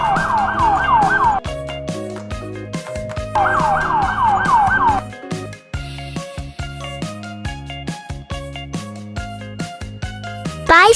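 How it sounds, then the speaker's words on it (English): An ambulance siren wails in two bursts of rapid rising-and-falling tones, each lasting about a second and a half, over a cheerful music bed that continues afterward. "Ambulance."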